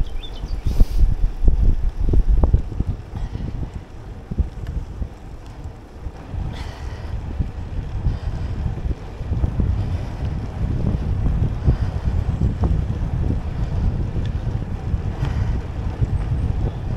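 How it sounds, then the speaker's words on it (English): Strong wind buffets the microphone on a canal towpath loop during a road cycling ride, with a steady low roaring rumble and gusts running throughout and no speech. "Sure, that wind's a bit stronger"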